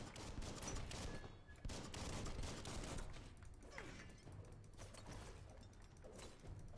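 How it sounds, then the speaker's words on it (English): Gunfire from the action game Biomutant, rapid bursts of shots and mechanical clatter layered over a dense game soundscape, fairly quiet overall. "Bullets everywhere."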